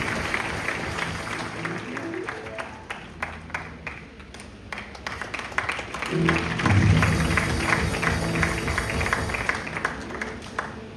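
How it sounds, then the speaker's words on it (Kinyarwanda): A congregation at a church service breaking into applause, a dense, sustained clapping that swells louder midway and carries on steadily, with voices mixed into the crowd noise. "Ese twakomera Imana amashyi?"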